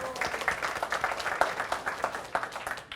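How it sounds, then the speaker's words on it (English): A small audience gives Troy Cardoza a round of applause at a garden talk, scattered, fairly faint clapping with irregular individual claps rather than a dense roar. "Troy Cardoza, everybody, give him a round of applause."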